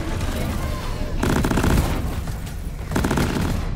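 Heavy automatic gunfire in the video game Deep Rock Galactic, played by an Engineer on Hazard 9 difficulty: a loud, dense, continuous fusillade of rattling shots with booming surges, filling the whole stretch.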